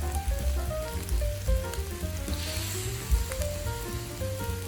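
Stir-fried glass noodles with egg sizzle and hiss in a hot pan as a little water is added, a steady broadband crackle running throughout at close range with no talking.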